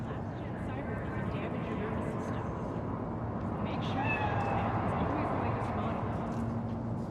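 A cat meows in Cyberpunk 2077 game audio, thin and drawn-out, rising faintly above a dense, steady rumbling ambience while voices talk.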